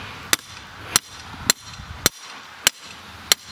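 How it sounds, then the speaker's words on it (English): Six sharp metallic hammer blows drive a fishing rod stand into the ground at a bank, evenly spaced about half a second apart, close and loud with quiet outdoor background between strikes. "it's easier if you take a hammer with you"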